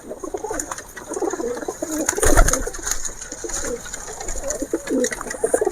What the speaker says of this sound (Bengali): তোমাদেরকে কিছু পায়রা ধরে দেখাই